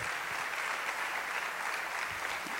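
Dense, steady applause from a church congregation at a youth service, sustained clapping filling the whole room without a break, moderately distant.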